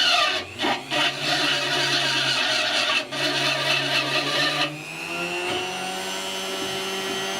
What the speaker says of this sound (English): I've got a little rotary burr on the end of my Dremel tool.